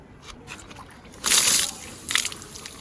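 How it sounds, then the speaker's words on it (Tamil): An AAC (autoclaved aerated concrete) block piece drops into a tank filled to the brim with water, making a brief bright splash and slosh, then a second smaller splash a moment later, close by with no talking. "ஸோ இதை ஃபஸ்ட்டு போடுவோம் தண்ணியில் மிதக்குதாங்க"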